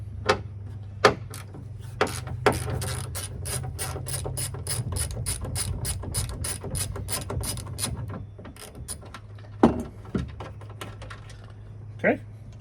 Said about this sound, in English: we need to remove this 10mm bolt